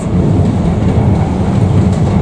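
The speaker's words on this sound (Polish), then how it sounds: "tramwaj jedzie przez las." A tram running through a forest near Nowa Huta, heard as a loud, steady low rumble that fills the whole stretch with no speech.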